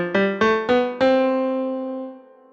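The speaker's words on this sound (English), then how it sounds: "the white keys in the piano sound like this," Piano playing a short run up the white keys of the diatonic scale, four clear separate notes struck in steady succession, the last one left to ring and slowly fade, close and alone.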